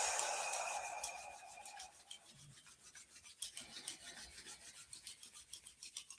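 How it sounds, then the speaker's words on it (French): Palms of the hands rub together in a quiet room, a soft brushing swish that starts as a continuous rub, then turns into a steady run of quick back-and-forth strokes. "On frotte les paumes des mains l'une contre l'autre."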